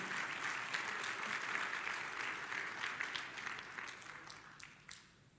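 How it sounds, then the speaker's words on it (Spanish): A church congregation claps loudly and steadily for about five seconds, a dense wash of many hands that thins and fades near the end. "Démosle un fuerte aplauso al Señor."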